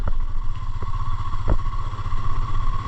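A motorcycle rides out of Lucknow toward Noida, its engine a steady, close drone with a few faint clattering bumps and no voices.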